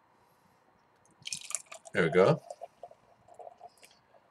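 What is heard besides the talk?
hazy double IPA beer being poured into a glass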